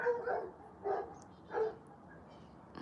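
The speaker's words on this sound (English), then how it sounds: "There's the dogs." Several dogs bark at a distance outdoors in the early morning, three separate bursts spaced about half a second apart, faint against a quiet background.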